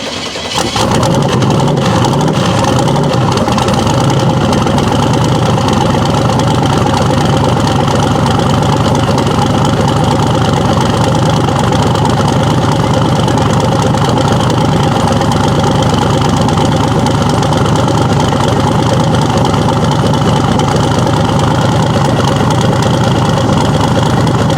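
An LS-swapped Datsun 280Z idles loudly and steadily up close after a brief start-up burst, a constant rumbling drone with a slightly lumpy beat throughout.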